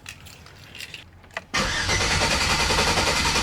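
A car engine with its fuel pump relay pulled cranks for a moment, then bursts into a loud, steady roar that runs without a break through the rest of the moment. Nobody speaks.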